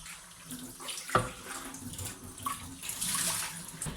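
Tap water runs and splashes steadily while parts of a Borotto Lumia 8 egg incubator are rinsed and scrubbed by hand, with a brief clunk partway through and a hiss of spray near the end, close and moderately quiet.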